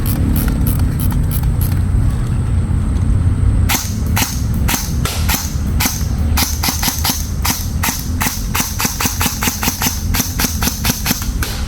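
Airsoft rifle in a GEMTECH build with an LMT enlarged grip and flat ETU trigger fires a rapid string of sharp, loud cracks, steady semi-auto shots followed by quicker bursts, close and alone with no voices.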